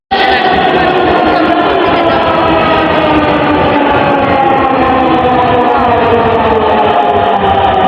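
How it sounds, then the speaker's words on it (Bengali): Dhaka metro rail train arriving at a station at night, a steady, loud rumbling roar with a sustained whine that holds evenly throughout, no voices. "এই যে আমাদের মেট্রো রেলটা চলে আসছে"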